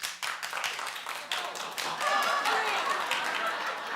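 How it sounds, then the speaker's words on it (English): Studio audience members on a daytime talk show clap in a scattered, uneven way, rising to a steadier patter partway through, with some speech mixed in. "Wait, clap if you have his new album."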